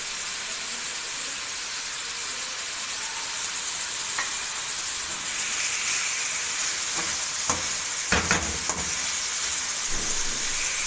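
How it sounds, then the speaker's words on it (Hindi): Chicken and mixed vegetables fry with garam masala in a pan, giving a steady, close sizzle that carries throughout. Scattered scrapes and clatters of stirring come toward the end, and no one speaks. "थोड़ी देर भूनेंगे।"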